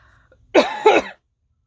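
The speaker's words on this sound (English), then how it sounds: "I've had this cough for almost 3 months." Two harsh, close coughs in quick succession, then silence.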